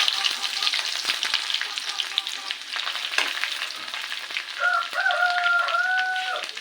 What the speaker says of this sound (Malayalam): 2 ടേബിൾ സ്പൂൺ വെളിച്ചെണ്ണ ഒഴിച്ചിട്ടുണ്ട്. അതിലേക്ക് 1 സ്പൂൺ കടുക് ഇട്ട് കൊടുക്കുന്നുണ്ട്.